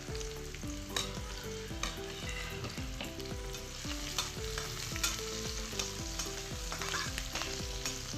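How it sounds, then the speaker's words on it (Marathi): Curry leaves and chopped onion frying in hot oil, a steady loud sizzle running throughout with repeated spoon stirring strokes, no voices. "तेल चांगला गरम झालाय तर यात कढीपत्ता टाकून घेऊ कापलेला कांदा"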